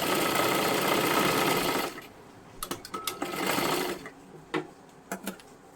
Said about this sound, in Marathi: आता तुम्हाला जेवढ्या शिलाई आवडतील तेवढ्या इथे मारून घेऊ शकता अशा पद्धतीने